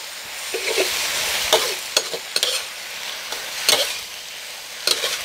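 Morning glory is stir-fried in a pan over very high heat, giving a steady loud sizzle with repeated scraping and clanking strokes of the spatula at an uneven pace, with no talk.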